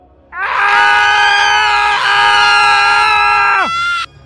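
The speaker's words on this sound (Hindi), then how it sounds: "उस दरवाजे के अंदर से रोने और चिल्लाने की आवाजें आने लगती है।" A loud sustained scream rings out from a dark cave doorway, a single held cry lasting several seconds before cutting off sharply, close and alone with no talk.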